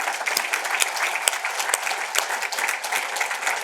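An audience in Springfield, Illinois claps for former Majority Leader Art Turner, with continuous, lively applause from many people, close and fairly loud throughout.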